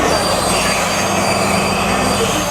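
A passenger train runs steadily on rails, a loud continuous rumble with wheel squeal and faint clatter throughout, close by and without voices; it is a special service carrying pilgrims to Kandy.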